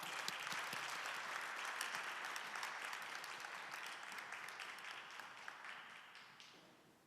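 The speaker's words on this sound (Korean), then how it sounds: "우리 박지연 집사님 큰 박수로 함께 환영하도록 하겠습니다" A church concert audience breaks into a long, dense round of clapping to welcome a performer, loud and steady before slowly thinning toward the end.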